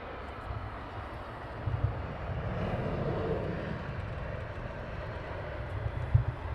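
An Aer Lingus airliner arriving at London Heathrow produces a moderate, distant engine rumble that swells slightly midway and stays steady, with no voices.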